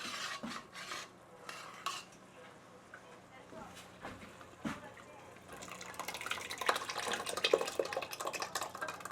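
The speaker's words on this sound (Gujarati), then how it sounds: "હવે દાળ નાખીશું" Dal for dal baati goes into a pot in a home kitchen in Canada and is stirred, giving soft scraping, clinking and watery sloshing that grows busier and louder in the second half.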